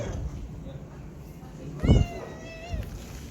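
Cats and small kittens meowing: one loud, clear meow stands out in the middle, with a shorter, softer mew after it over a low background.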